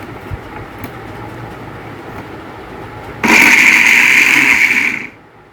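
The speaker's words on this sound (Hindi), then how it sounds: "अब इसे हम ग्राइंड कर लेंगे, इसको लगाकर हम ग्राइंड कर लेंगे।" An electric grinder whirs loudly for about two seconds as it blends chickpeas, onion and green chillies, starting abruptly after a quiet kitchen hum and then cutting off.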